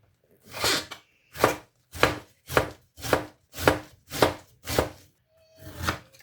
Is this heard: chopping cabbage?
yes